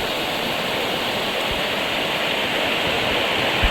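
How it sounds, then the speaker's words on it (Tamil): Floodwater in a Kilinochchi village rushes past in a steady, dense roar, continuous and close, with no voices. "இவ்வளவு தண்ணி பாயுதா"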